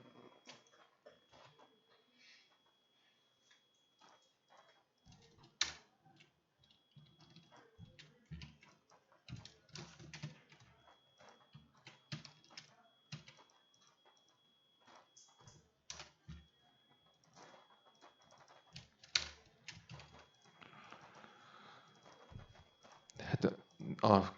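Scattered typing on a computer keyboard taps out in irregular bursts of clicks, close and fairly quiet, with a person speaking intermittently over it.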